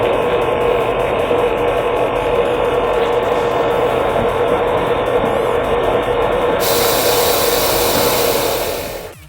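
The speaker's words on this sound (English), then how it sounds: "Its diesel engine barely slows as branches vanish into the gaping maw." A diesel wood chipper with a heavy flywheel runs steadily while shredding branches, a loud continuous roaring drone with grinding texture that holds nearly unbroken before dropping off at the end.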